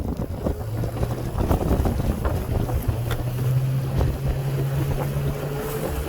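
Parsun 9.8 outboard motor on a Kolibri 330 boat running at speed at roughly 60% throttle, a steady droning engine hum under heavy wind buffeting and water rush, close and loud, no talking.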